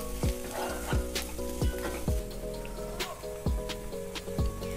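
Onions with turmeric being stirred in a frying pan for kanda poha, a steady sizzle broken by several sharp scraping strokes of the spoon spaced about a second apart, close and moderately loud with no talk.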